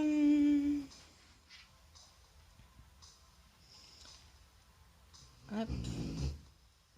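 A dog snores and snorts softly nearby, with a low, rough rumble that swells near the end, while someone speaks quietly over it.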